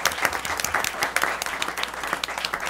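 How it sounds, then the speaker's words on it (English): A school board meeting audience gives a round of applause for a teacher, steady dense clapping filling the room from start to finish. "Give another round of applause"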